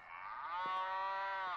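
A cow moos in a cursed fast-food restaurant video game, a single long, drawn-out lowing call with a clear tone that holds steady for well over a second, heard alone.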